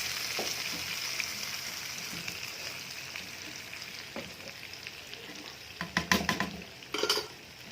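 A hot fried topping is poured from a pan onto lentil soup. A quiet, even sizzle runs along first, then loud crackling bursts flare up twice near the end as the hot oil hits the soup.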